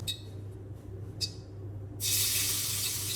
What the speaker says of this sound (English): Remove the noodles from the water and drain well.